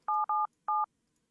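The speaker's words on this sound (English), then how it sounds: "we press a couple of buttons on this phone over here" Three DTMF keypad tones from buttons pressed on a desk phone at a call-centre agent station, two quick beeps close together and a third after a short pause, clear and steady with no talk.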